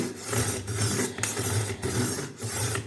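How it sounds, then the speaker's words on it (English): A kitchen knife drawn back and forth over the finer grits of an IKEA SKÄRANDE sharpener gives close, steady rasping strokes, about five even passes in a regular rhythm with no talk. "back and forth, very lightly. Hold the knife sharpener sturdy so it won't move."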